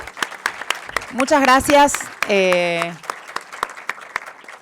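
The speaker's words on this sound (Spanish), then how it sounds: "que les damos un fuerte aplauso a Sole" Audience at a panel discussion with actors clapping steadily, a sustained patter of many hands under talk in Spanish that briefly rises above the clapping.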